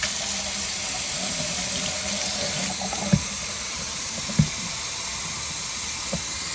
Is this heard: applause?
no